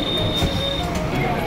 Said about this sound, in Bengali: ডানকুনি ট্রেনও এসে গেছে, এই ট্রেনে দক্ষিণেশ্বর যাবো